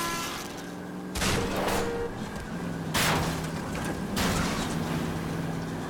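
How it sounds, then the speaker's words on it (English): Several loud gunshots at a car's tires during a chase in the L.A. Noire video game: three sharp bursts spaced about a second or more apart over a steady engine drone, with no talk. "I'll try to shoot out his tires."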